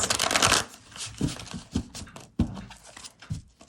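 Tarot cards are shuffled up close in a quiet room, a rapid riffle followed by soft, irregular slaps and flicks as the deck is handled.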